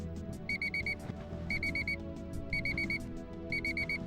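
Electronic thermometer alarm beeping in bursts of four quick high tones repeated about once a second over a low indoor hum.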